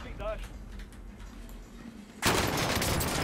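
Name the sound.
gunfire from a gun in Call of Duty Warzone zombies video game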